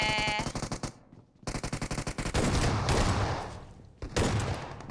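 Rapid automatic gunfire in PUBG Mobile: dense bursts of close shots with a short pause, then a long sustained volley and a final burst, loud and continuous with no talking.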